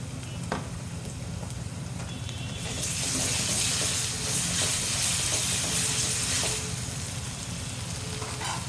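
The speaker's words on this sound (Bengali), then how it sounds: "পেঁয়াজ কুচি, এটার মধ্যে এখন দিয়ে দিব আদা রসুন জিরা পেস্ট" Ginger, garlic and cumin paste sizzles in hot oil with chopped onions, a steady close frying hiss that swells louder midway and then settles, with no voices.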